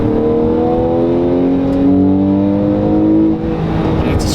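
A 2014 Porsche 911 Carrera's naturally aspirated horizontal flat-six revving hard, a loud close engine note climbing steadily in pitch with a smooth rising howl, then easing off briefly near the end.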